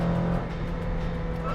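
A 1994 Porsche 968 Turbo S with a manual gearbox drones steadily from inside the cabin while driving, a low, even engine hum with a faint whine on top and no talk.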